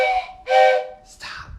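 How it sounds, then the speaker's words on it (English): A toy train whistle blown during a first grade music class, two bright airy blasts with a short gap, the second starting sharp and tailing off, loud and close. "I brought my train whistle to class"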